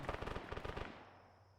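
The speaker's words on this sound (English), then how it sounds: "I'm hearing gunfire." Rapid automatic gunfire from the Arma 3 Antistasi military video game, a fast burst of shots rattling for under a second before fading into a lingering echo, heard at a moderate distance.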